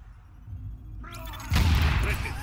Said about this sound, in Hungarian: Kicsit késett a robbanásnak a hangja.